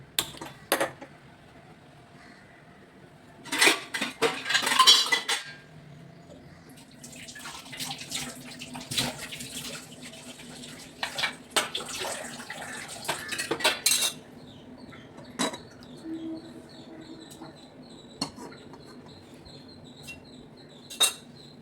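Chopped onions are mixed in a bowl with utensils, making intermittent bursts of clinking and scraping against the bowl, separated by quieter pauses.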